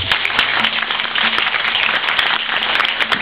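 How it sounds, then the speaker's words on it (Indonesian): Steady applause from a crowd, continuous dense clapping that fills the whole stretch at an even, fairly loud level. "Tepuk tangan untuk beliau ini"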